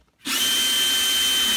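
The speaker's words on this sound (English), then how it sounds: "Use a 1/4 inch drill bit." A power drill with a 1/4 inch bit starts abruptly and whines at a steady high pitch, loud and close, while boring a hole during a reef tank RO/DI system install.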